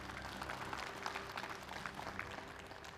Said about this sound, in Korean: 전호원 상임위원장에게 다시 한번 큰 박수 부탁드리겠습니다.